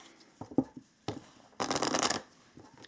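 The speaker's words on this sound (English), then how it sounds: "Let's pull some oracle cards for you." A Halloween oracle deck being shuffled, with a few soft card taps and handling sounds followed by a dense, close riffling burst of about half a second, then quiet.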